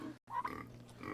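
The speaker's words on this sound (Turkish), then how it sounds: "bunlar da arkadaş canlısı domuzlarmış" A pig on a suburban farm gives a short, close grunt, with a brief gap of silence just before it.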